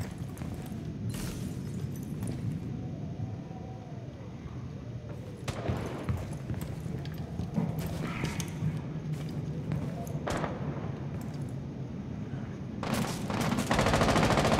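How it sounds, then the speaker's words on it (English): Gunfire in Rainbow Six Siege, shots fired down into a window from the top of a tower during a secure-area team deathmatch on the Oregon map; sharp bursts of shots come intermittently over steady game ambience, louder near the end. "Looks like they're shooting down into this window from the top of tower."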